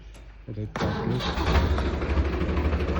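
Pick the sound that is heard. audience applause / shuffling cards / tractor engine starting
tractor engine starting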